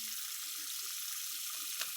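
Cold water running from a tap into a sink, a steady hissing gush lasting throughout, close and fairly quiet, with no one speaking over it.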